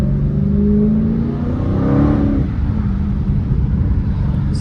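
A Dodge Scat Pack's engine revs hard toward redline, its pitch climbing to a peak around the middle and then easing back, loud and close throughout.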